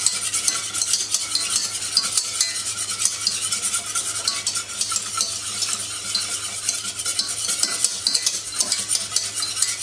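A whisk or utensil scrapes steadily around a hot saucepan, stirring béarnaise sauce in a figure-eight pattern, with a continuous rhythmic swishing and faint sizzle, close and unaccompanied by talk.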